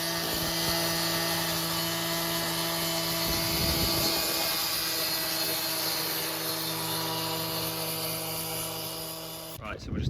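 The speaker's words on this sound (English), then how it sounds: "he's now going to cut that out with a steel saw" A steel saw cuts through tarmac pavement with a loud, steady, high whining drone that runs almost the whole time and stops abruptly near the end.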